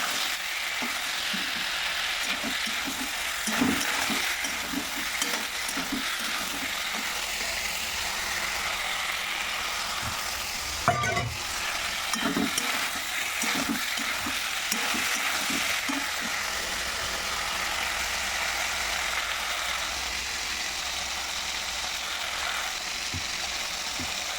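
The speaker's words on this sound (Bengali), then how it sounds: "লঙ্কা চিড়ে আদা বাটা দিয়ে রান্না করছি" A vegetable curry with slit chilies and ginger paste simmers and fries in a pan. It makes a steady low sizzle throughout, broken by occasional stirring knocks and one brief clatter near the middle.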